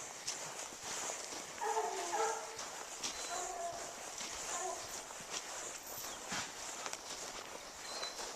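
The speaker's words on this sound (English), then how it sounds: "these guys are hunting dogs, and they're up here to hunt bear" Bear-hunting dogs at a mountain camp bark repeatedly in short clustered volleys, with a few whimpers and yips, at moderate distance over steady outdoor background noise and shuffling movement.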